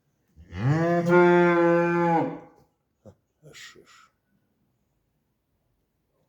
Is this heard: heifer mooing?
yes